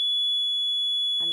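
A buzzer in a light-sensitive resistor circuit sounds a single steady high-pitched tone, loud and unbroken, and a voice starts talking just as it ends.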